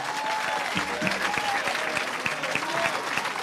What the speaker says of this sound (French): Give a hand clap unto the Lord.